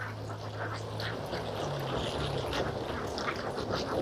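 Ducks at an open-air duck farm, a steady outdoor bed of noise with scattered quacks and calls from a flock at middle distance, no talk over it.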